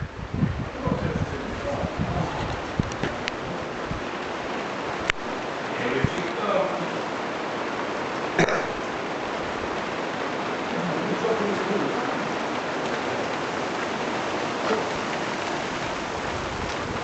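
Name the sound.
rain falling at night while camping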